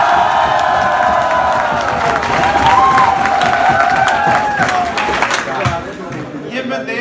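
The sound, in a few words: audience shouting and clapping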